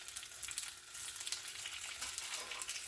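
Calamari sautéing in a frying pan for a Christmas Eve stuffed calamari dish give off a soft, steady sizzling hiss, fairly quiet and unbroken, with no voices.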